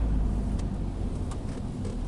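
Nissan Primera car interior while driving and shifting gears: a steady low engine and road rumble, continuous and fairly quiet, with no clear rev change.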